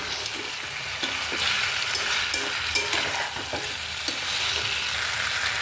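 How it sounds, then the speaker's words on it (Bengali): Fried chicken pieces stirred and fried in a spice masala for chilli chicken give a steady close sizzle, with scraping stirring strokes throughout and no talking. "এবার ভালো করে নাড়িয়ে নেব, ভালো করে কষাবো যাতে চিকেনের মধ্যে মশলাটা যেতে পারে"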